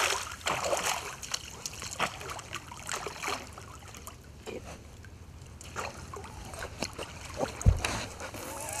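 A hooked vampire fish, a fanged species, thrashes at the water surface during night fishing, making a run of irregular splashes with a sharper burst near the end, while people talk faintly nearby.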